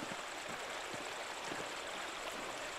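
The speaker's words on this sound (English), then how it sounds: "Just the waterfall." Steady waterfall in the video game Pentiment, a continuous broadband rush of falling water held at an even, fairly quiet level with no voices over it.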